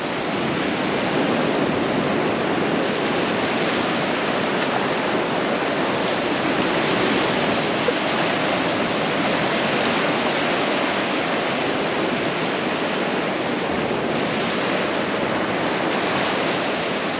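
Ocean waves break on a beach in Guadeloupe, making a loud, continuous rushing roar that stays steady throughout without any voices.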